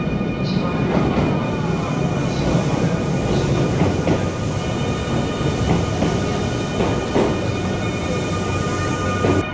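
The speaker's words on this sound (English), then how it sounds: "So I presume this is our train." A Nankai Airport Line train at Kansai Airport rumbles steadily throughout, with dense low-frequency noise, faint rail clatter and occasional metallic squeals, heard from close by.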